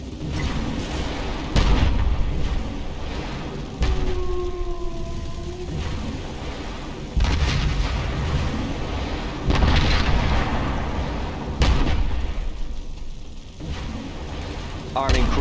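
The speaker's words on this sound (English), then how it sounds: "cruise missile." Cruise missile strike in C&C Generals: a run of heavy booming explosions and rumbling blasts, loud and close, with radio-style unit voice lines over the impacts.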